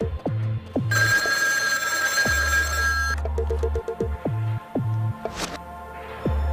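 A telephone rings in a dramatic scene from an Ethiopian film, a bright bell burst lasting a couple of seconds over deep, throbbing pulses of low background music.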